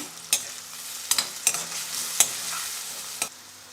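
Chopped onion being stirred and sautéed in a pan with salt until pinkish, with a soft steady sizzle and several sharp spatula scrapes and taps at irregular intervals, no talking.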